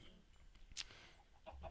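Chickens cluck in the Minecraft game with the Ars Magica mod. A few short clucks and one sharper squawk rise over quiet game ambience in a brief, sparse burst.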